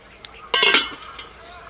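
Mutton curry with fried potatoes gets a brief clatter of stirring in a metal pot, a short burst of spoon-on-pot clinks and scraping against faint kitchen background.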